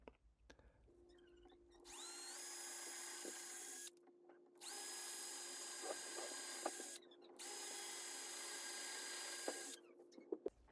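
A power drill bores three holes into a wooden door, each a steady high whine lasting a couple of seconds. Short pauses and quiet handling sounds fall between the holes.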